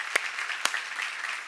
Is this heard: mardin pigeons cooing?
no